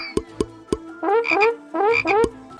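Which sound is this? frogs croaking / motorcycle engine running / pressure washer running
frogs croaking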